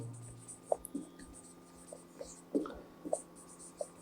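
Marker or chalk writing on a classroom board during a basic English lesson, a series of short scratchy strokes and taps spread irregularly across the moment, fairly close, with a low steady hum underneath and no talking.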